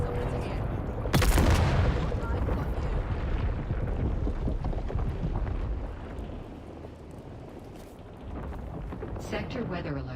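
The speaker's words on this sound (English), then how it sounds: "It's a grenade literally the second you throw" A grenade in Dune Awakening blasts with a sudden loud boom, followed by a rumbling, windy roar that fades over several seconds, with a voice faintly audible.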